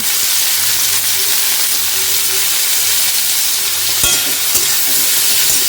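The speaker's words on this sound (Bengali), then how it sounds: "একটু ভাজা ভাজা করে পালং শাকটা দিয়ে দেবো" Chopped vegetables, salted and spiced with turmeric, fry and sizzle steadily in a pan, with a few scraping stir strokes near the end; close and continuous, with no talking.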